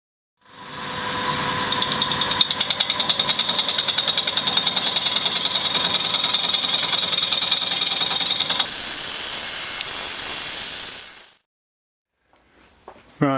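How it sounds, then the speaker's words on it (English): A saw cuts steadily through a Moto Guzzi Le Mans III aluminium top yoke, a loud, continuous rapid chattering with a shrill metallic edge that runs about ten seconds before stopping abruptly. "the saw has broken through on this side, which is good."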